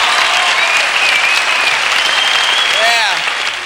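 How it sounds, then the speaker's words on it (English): A crowd at a comedy reunion show breaks into loud, dense applause that holds steady for a few seconds, with scattered cheers and whoops rising over the clapping near the end. "I think I should applaud you for that"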